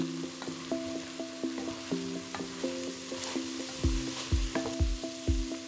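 A spoon stirs potatoes frying in a pan for jjajangmyeon, with repeated scraping strokes over a steady sizzle and a soft melodic tune running underneath.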